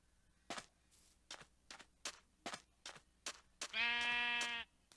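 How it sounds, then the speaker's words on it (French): A series of sharp clicks and taps from the Minecraft survival game runs at a steady pace, then a sheep bleats once, loud and close, in a single drawn-out cry. "Ah, il y a un mouton."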